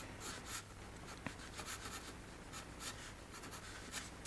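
Charcoal pencil scratching and stroking over a layer of chalk pastel on paper, a steady run of short dry strokes in an irregular rhythm, close and fairly quiet, with no voices.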